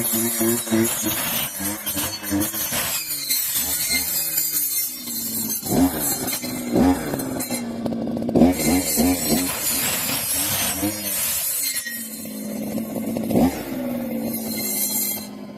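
A brush cutter's small engine drones nearby, its pitch rising and falling as it revs up and settles back, rattling and buzzing throughout.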